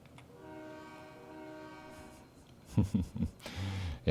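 Locomotive on a railway video game sounding a long, steady multi-tone horn, followed by sharp clanking and clattering bursts of coupling and wagon movement, close and loud with no talking.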